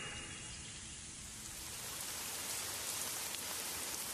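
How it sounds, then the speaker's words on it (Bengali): Heavy rain pours down steadily in a dense, even hiss that swells slightly louder after the first second and holds without pause, with no voices over it. "ঝমঝম করে বৃষ্টি নামলো।"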